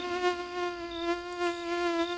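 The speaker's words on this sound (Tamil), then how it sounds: "என்ன இப்படி கொசு கடிக்குது?" A mosquito buzzing close by, a steady thin high-pitched whine that wavers slightly in loudness and continues without a break.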